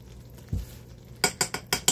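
A spoon stirs caramel in a pot just after baking soda goes in: a single low thump, then a quick run of five sharp metallic clinks, close and fairly quiet.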